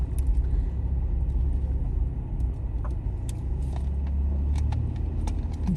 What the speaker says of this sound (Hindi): वो मुर्गियों वाली गाड़ी नहीं जो तुम कह रही थी उधर, वो सामने आ गई।